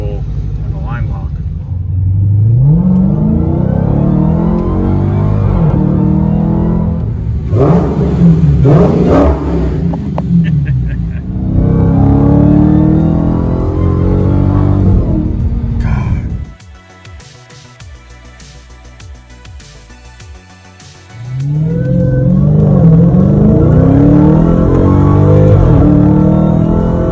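A supercharged 2020 Dodge Challenger Hellcat RedEye Widebody engine roars and revs up hard on launch control with line lock, drops away for several seconds, then surges loudly again as the car accelerates.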